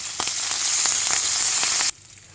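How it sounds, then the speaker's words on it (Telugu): Curry leaves sizzle and crackle in hot oil with fried urad dal and asafoetida for a peanut chutney tempering, a loud steady hiss with small pops that cuts off abruptly near the end. "ఇప్పుడు కర్రీ లీవ్స్ వేసేసుకుందాం."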